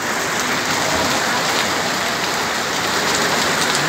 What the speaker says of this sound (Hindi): आप देख सकते हैं बहुत तेज़ों का बारिश हो रहा है